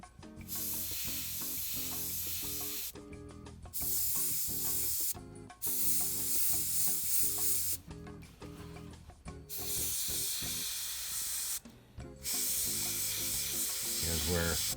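Airbrush spray dusting paint over the exhaust of a 28mm A15 Crusader tank model, loud hissing bursts that cut off briefly several times, with faint music underneath.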